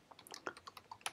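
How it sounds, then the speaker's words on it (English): Light typing on a computer keyboard, a quick irregular run of soft clicks, quiet and close, with no talk. "So I'm just going to start off by typing a comment."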